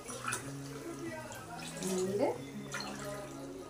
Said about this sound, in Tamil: நம்ம தண்ணி ஊற்றிக்கலாம்.